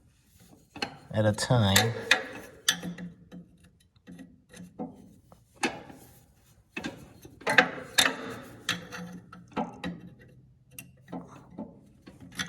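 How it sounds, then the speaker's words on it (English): An Allen wrench clamped in a vise grip turns a bolt on a Cub Cadet snowblower, producing intermittent metallic clicks, scrapes and ratcheting knocks at close range, with a brief spoken remark among them. "What I've rigged up is my Allen wrench just on a vice grip to give me that leverage."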